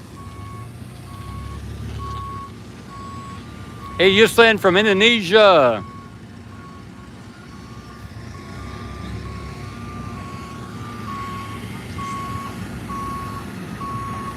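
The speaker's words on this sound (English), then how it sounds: "That was the mosquito truck." A mosquito spraying truck reverses with a steady, evenly spaced electronic beep that repeats throughout over a low engine rumble outdoors; someone briefly speaks partway through.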